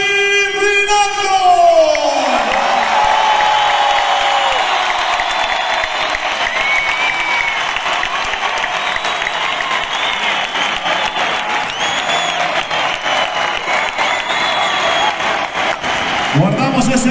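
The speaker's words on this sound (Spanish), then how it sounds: "¡Aplausos para David Rinaldo!" A large crowd at a freestyle motocross show claps loudly and steadily, with whoops and cheers woven through a sustained roar that builds after a brief announcer's voice at the start and tapers near the end.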